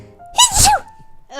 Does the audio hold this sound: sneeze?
yes